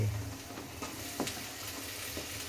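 Potato and okra sizzle steadily in a hot pan, a soft continuous frying hiss with faint crackles throughout, heard up close without talk.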